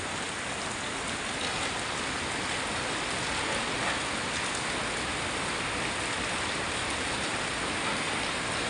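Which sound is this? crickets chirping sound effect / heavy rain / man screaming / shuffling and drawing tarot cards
heavy rain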